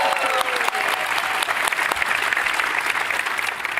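Attendees at the Canva Create 2025 conference burst into loud, sustained applause, sharp claps crackling through a full crowd sound, with a brief whistle or cheer near the start.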